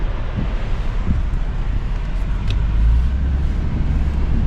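Strong wind buffets the microphone in a constant, heavy roar with low rumbling gusts, and no other clear sounds come through.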